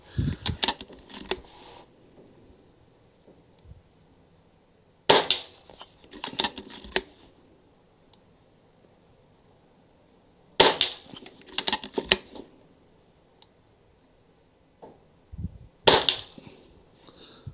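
Four widely spaced rifle shots fired while zeroing a DNT Optics Zulus V2 scope outdoors, each a sharp loud crack followed by brief echoing tail, separated by quiet pauses of several seconds.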